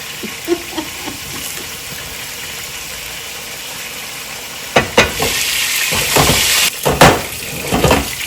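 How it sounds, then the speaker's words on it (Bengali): Onions frying in a pan for a Bengali hilsa fish and Malabar spinach curry give a steady, close sizzle throughout, with louder stirring clatters and bursts after the midpoint. "আমার পেঁয়াজটা মোটামুটি ভালোই ভাজা হয়ে গেছে"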